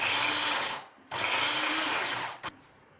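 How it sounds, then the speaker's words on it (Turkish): A food processor's motor whirs loudly up close in two long bursts, followed by a short final pulse, chopping onions. "Rondada çektirdiğimiz soğanlarımızı"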